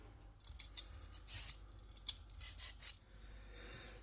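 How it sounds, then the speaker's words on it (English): Potatoes being peeled, a series of close, quiet scraping and rasping strokes in an irregular rhythm, with no talk. "So once we've peeled the spuds"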